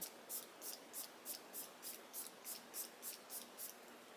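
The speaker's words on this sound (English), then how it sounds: "I literally drench my skin in setting spray ever since I learned how good it makes your skin look." A setting spray bottle is pumped over and over onto the face, making about a dozen short, evenly spaced misting hisses that are close, soft and quick, with no voices.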